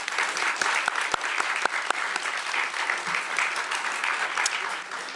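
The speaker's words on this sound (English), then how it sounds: "Let's have a round of applause for all of them." Audience applause at the Dallas Arts Month kick-off celebration, a dense steady wash of many hands clapping for several seconds, with a few sharper nearby claps standing out.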